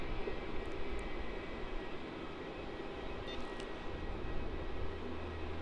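A QantasLink aircraft takes off at Melbourne Airport, a steady, loud engine roar with a broad rumble that holds evenly throughout, heard from a distance with no voices.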